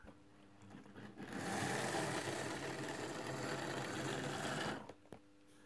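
Piko model locomotive SNCF CC-7001, an East German model, rolls in with a steady whirring motor hum, rising from quiet, holding for several seconds, then stopping abruptly.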